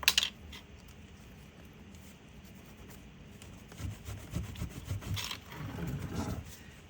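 Cement grout being gently rubbed and polished by hand over a mosaic, a soft steady scraping and rasping with bursts of firmer scrubbing strokes toward the end, close and alone.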